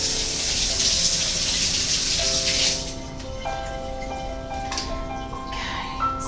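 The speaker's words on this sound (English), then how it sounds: "Let me rinse my hands off here." Tap water runs in a steady hiss as hands are rinsed during scone baking, then the flow stops, leaving faint drips and small clinks in a quiet kitchen.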